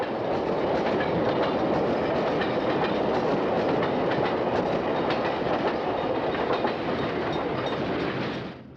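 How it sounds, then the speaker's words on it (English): A Metra commuter train on the Rock Island main line at Blue Island, hauled by a then-new F40PH diesel locomotive, roars past close by, loud and steady with a rushing rumble and clickety-clack of wheels on rail joints, fading at the end. "A commuter train blasts through Blue Island on the Rock Island main line headed for Joliet behind one of Metra's then new F40PH locomotives."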